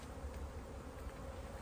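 Honeybees buzz around an open hive while a super is being checked, a dense, steady hum close by with no voices.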